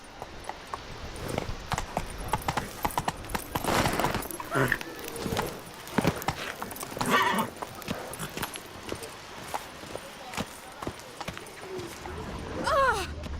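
Hoofbeats of the horse Roach running in The Witcher video game, a steady clip-clop rhythm of hooves close by, mixed with game effects and occasional voices talking over it.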